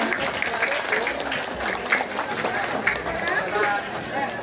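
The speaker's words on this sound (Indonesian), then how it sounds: "Beri tepuk tangan untuk putra putri TKI kelas 6." Audience applause at a class 6 primary school farewell ceremony, a steady wash of clapping with crowd noise running throughout, moderately loud and close.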